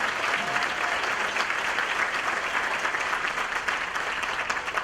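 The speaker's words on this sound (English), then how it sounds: "Give her another round of applause as well" Guests at an NAACP Freedom Fund anniversary gala dinner give a round of applause, even and continuous clapping from a large room that holds steady throughout.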